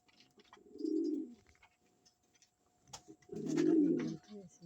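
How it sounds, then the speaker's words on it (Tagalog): Two low, throaty pigeon coos a couple of seconds apart, close and clear against a quiet background with faint clicks between them. "Magandang ibon to si Kalawang."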